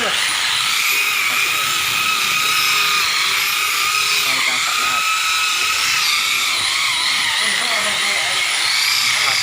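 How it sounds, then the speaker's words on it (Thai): A machine polisher with a foam sponge pad buffs car paint using number 3 polishing compound, giving off a loud, steady, high whine that runs unbroken from start to finish. "ตอนนี้คือเป็นขั้นตอนการขัดเงานะครับ โดยใช้น้ำยาเบอร์ที่ 3 นะครับ"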